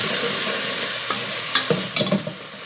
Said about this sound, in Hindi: पानी का छिपा दे के इसको अच्छे तरीके से भूनेंगे